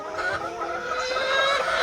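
Chickens on a farm with a large poultry setup, a dense, continuous chorus of clucking from many birds, fairly loud and near, with no voices.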